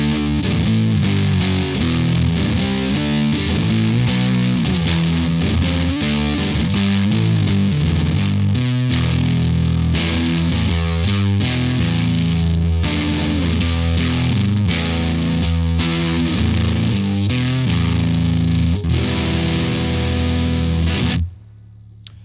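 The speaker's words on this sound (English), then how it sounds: "So that is just one of my favorite sounds I've gotten out of a fuzz pedal ever." Electric guitar through a Glutnik fuzz pedal on its silicon diode setting, playing a dense, heavily distorted riff with thick sustain for about twenty seconds, loud and continuous, then cutting off abruptly.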